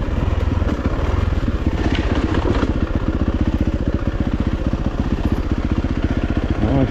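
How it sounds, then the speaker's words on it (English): A Yamaha YZ450FX dirt bike engine runs steadily and loud throughout while riding through the bush, its rapid firing pulses close and continuous with rattling clatter over rough ground. "Let's learn how to ride a bike in the bush again."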